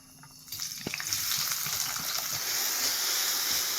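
Onion hits hot oil in a pan for a tomato rice dish, bursting into a steady, close sizzle after a brief quiet start, with a faint stir or clink early on.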